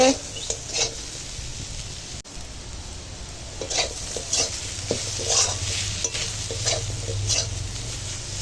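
Pumpkin pieces cook in a pan, a continuous sizzle broken by repeated scrapes of a stirring utensil at an uneven rhythm, fairly close, with no speech.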